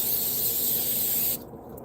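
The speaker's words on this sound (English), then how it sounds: "I don't need my world famous butter spray." Butter spray can releasing a steady close hiss for over a second, cutting off sharply near the end, heard during a car-camping cooking setup inside a Prius.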